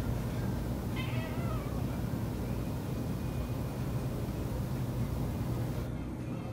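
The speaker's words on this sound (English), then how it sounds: "As you can see, the cat is meowing at something." A cat meows once, faint and brief, against steady loud background hiss, followed by long stretches of noise with no further calls or talk.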